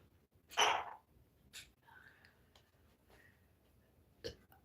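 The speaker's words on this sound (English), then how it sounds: "beauty burped" A short, throaty burp bursts out near the start, loud and close, followed by a few faint mouth and breathing sounds and a brief sharp noise near the end.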